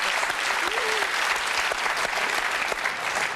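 Studio audience applause on a French-language quiz show final, a dense steady patter of many hands clapping at close range, filling the whole stretch with only faint voices beneath.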